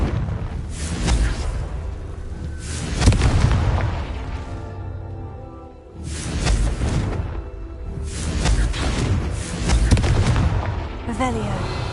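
Several heavy booming blasts from the Confringo spell shattering rocks in a Hogwarts video game, loud explosive bursts recurring every few seconds with rumbling debris tails between them.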